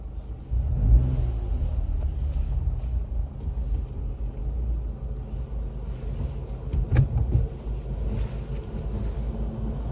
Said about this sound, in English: I'm going to let an articulated lorry go past first.